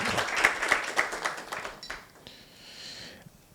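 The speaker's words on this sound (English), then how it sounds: "Let's give her a clap." Audience applause for a panelist at a sustainable agriculture panel discussion, a dense patter of clapping that swells briefly, then thins and fades out within a few seconds.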